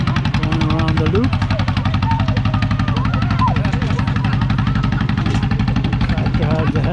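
Tractor engine running on a valley loop, a steady, throbbing low idle with rapid regular pulses that stays loud and close throughout, with someone talking over it.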